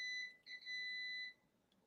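Electronic beeping near a streamer's microphone: a faint steady tone sounds, breaks off briefly, then resumes and holds for about a second before stopping, heard alone without speech.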